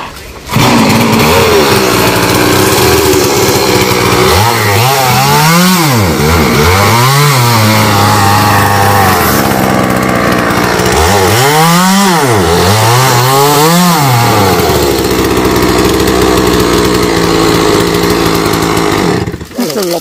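A loud chainsaw cuts down coconut trees in Dong Nai, its engine revving and bogging repeatedly in deep swooping cycles as the blade bites, running close and continuous throughout.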